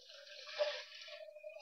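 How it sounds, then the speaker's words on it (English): Tap water runs into an empty soup can in a kitchen sink, a brief faint hollow rushing stream that rises to a peak and then settles as the can fills. "Fill the can up with water."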